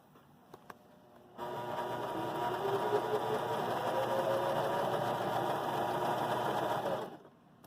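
A Baby Lock Joy sewing machine stitching: after a couple of faint clicks, a steady mechanical whir starts abruptly, runs evenly at close range for about six seconds, then stops.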